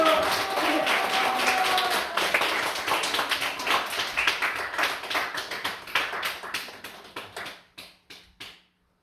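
Church congregation clapping hands together in a dense, vigorous burst that thins into scattered separate claps and dies away, with a faint voice over the start.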